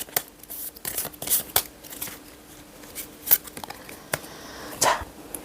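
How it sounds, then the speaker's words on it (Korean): Tarot cards being shuffled by hand, a series of quick papery riffles and crisp slaps in irregular bursts, close and fairly quiet. "카드 섞고요"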